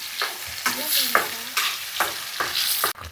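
A ground onion and tomato paste is poured into hot oil and stirred, bringing a loud, close sizzle with repeated scraping strokes of a spoon in a steady rhythm before an abrupt cut at the end.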